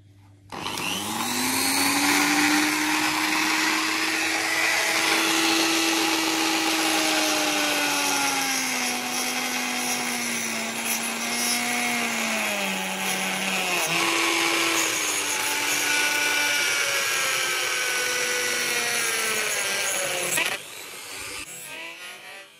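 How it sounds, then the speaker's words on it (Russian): A Dexter rotary tool fitted with a small metal cutting disc screams at high speed while cutting a pipe, a loud continuous whine that shifts in pitch under load and then stops abruptly near the end. "Использовать будем гравер фирмы Dexter. Поставили диск по металлу, маленький вот такой вот. И сейчас будем пробовать отрезать трубу."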